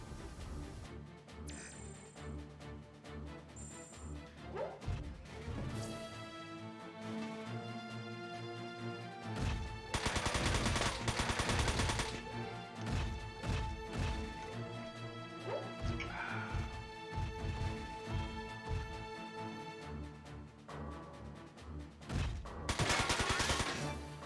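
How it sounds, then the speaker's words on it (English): Loud airstrike explosions in the Front Mission 4 mech war game: repeated heavy blasts and crashes over a busy game soundtrack, with the strongest bursts near the middle and end. "Airstrike power! Always good."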